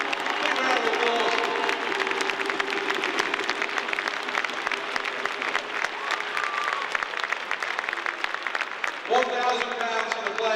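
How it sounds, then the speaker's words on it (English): Audience at an ice hockey charity evening breaks into sustained applause, dense clapping from a large crowd filling the arena, steady and loud throughout, with some cheering mixed in near the end. "Big round of applause."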